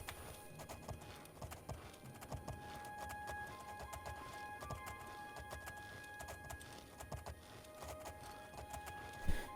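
Horse hooves clip-clop in a steady galloping rhythm while riding in the video game The Elder Scrolls IV: Oblivion, close and fairly loud over a constant backdrop of game ambience, with no talk.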